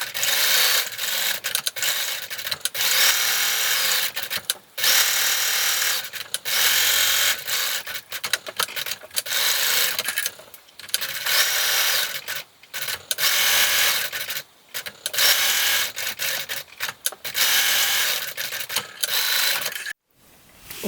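A sewing machine stitches a fabric coaster, running in bursts of fast, even mechanical whirring broken by short pauses and stops, close and clear with no talking.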